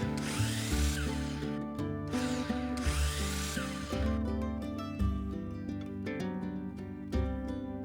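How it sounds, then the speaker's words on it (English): A power drill bores a hole into the center of one end of a piece of pine wood, giving a steady, loud whirring whine that shifts in pitch as the bit works, with no talking. "A hole was drilled in the center of one end, and then it was cut to a point."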